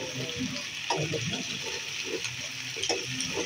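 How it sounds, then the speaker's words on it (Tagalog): Soft, steady sizzling and crackling of vegetables frying in a pan for chicken curry, with a few light scraping clicks, fairly quiet throughout. "Kung maririnig nyo, medyo naprito-prito na siya, diba?"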